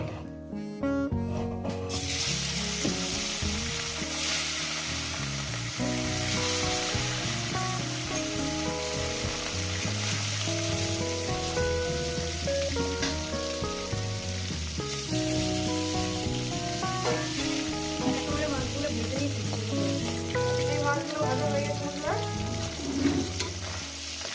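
Rohu fish pieces fry in hot oil in a pan with a continuous, dense sizzle and crackle that stays loud and close throughout, with occasional faint stirring scrapes.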